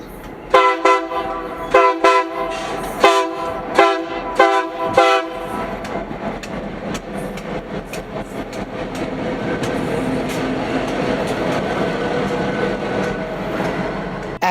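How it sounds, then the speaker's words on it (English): A freight train led by a GP38 locomotive passes through Roy, sounding several loud horn blasts in a rhythmic pattern, then rumbling steadily with rolling wheel and car noise as it goes by. "the local came through Roy, with GP38N693 leading"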